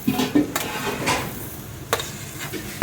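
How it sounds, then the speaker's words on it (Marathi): Coriander seeds are dry-roasted in a pan, with intermittent scraping and stirring strokes and faint crackles, a few sharp clinks standing out against a quiet background. "इथे अर्धा किलो धने घेतलेले आहे आपण आणि सगळे धने आपण भाजून घेतोय"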